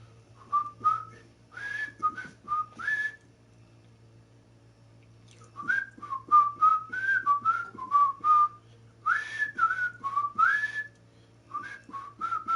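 A person whistles short, wavering, breathy phrases in bursts separated by pauses, with a low steady hum underneath and no talking.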